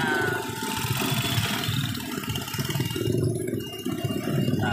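Motorized becak rickshaw engines buzzing and rattling in Yogyakarta street traffic, a steady mid-pitched engine drone with vibration, close and continuous, no voices.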